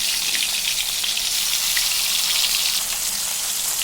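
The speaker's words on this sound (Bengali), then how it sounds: "আমার ইলিশ মাছ এখন হয়ে গেছে ভাজা" Hilsa fish fries in hot mustard oil with a loud, dense, steady crackling sizzle that fills the whole moment at close range, with no voices over it.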